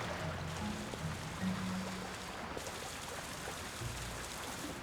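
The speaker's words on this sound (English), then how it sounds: "I don't think there's anything behind the waterfall." Waterfall in The Legend of Zelda: Tears of the Kingdom's Eldin Region, a steady dense hiss of falling water filling the whole stretch, with faint low musical tones early on.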